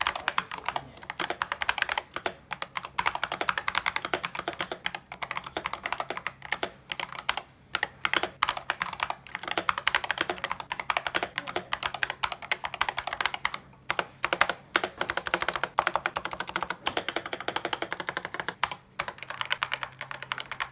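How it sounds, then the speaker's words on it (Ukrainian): Rapid, continuous keystrokes clatter on a Razer Huntsman V3 Pro mechanical keyboard for about twenty seconds, with brief pauses between bursts of typing, close and clear. "Давайте ми зараз запишемо тайпінг-тест"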